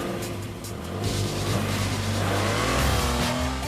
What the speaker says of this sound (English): The car doesn't even sit down when it leaves the line.